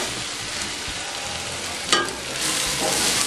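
Food sautéing and being stirred in a pan, a steady soft sizzle with a brief scrape of the spoon partway through and the frying growing slightly louder toward the end.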